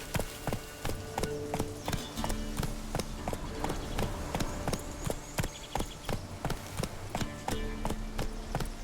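Hooves of Roach, the horse in The Witcher 3, clip-clop in a steady trotting rhythm, loud and close over a faint game soundscape.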